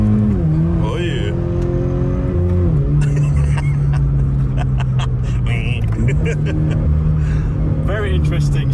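A Toyota GT86 engine is pushed hard while drifting. It revs loud and close, with its pitch climbing and dropping sharply through several flat-foot shifts.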